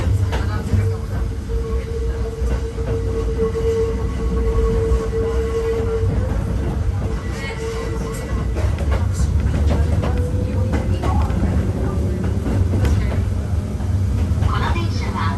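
The Hakone Tozan Railway 1000 series Bernina mountain train running on the climb from Hakone-Yumoto toward Gora, a steady rumbling rolling hum with faint squeals and rail clicks, continuous and fairly loud throughout.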